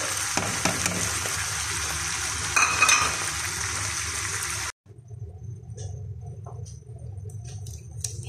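Tomatoes and bell pepper dropped into a pan of cooking tuna, a loud sizzle and stirring that cuts off abruptly, then resumes as a quieter frying crackle.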